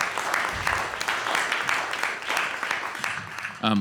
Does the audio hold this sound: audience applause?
yes